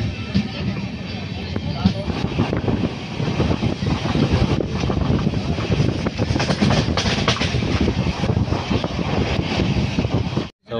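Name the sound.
superfast train passing through a station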